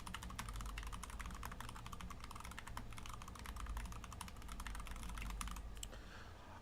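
Rapid keystrokes clatter on a computer keyboard as a note is typed, a dense run of close, crisp clicks with brief pauses, quiet and alone with no talking.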